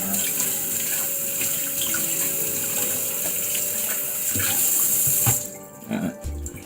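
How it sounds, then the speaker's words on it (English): Water runs steadily from a tap into a mixing bowl for muffin batter, a continuous close splashing wash that cuts off near the end, followed by a few light knocks. "The bowl's getting filled up."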